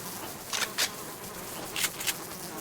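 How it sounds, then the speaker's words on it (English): Honeybees buzz in the survival video game Subsistence, a faint continuous insect drone with a few brief louder passes as individual bees fly close. "I really hope the honeybees leave us alone before the insect repellent wears off."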